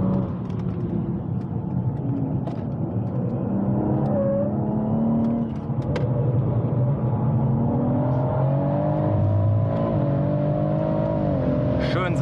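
BMW M140i on a race track running over a curb, its engine droning steadily and loud throughout with a rumbling road texture, while someone talks over it.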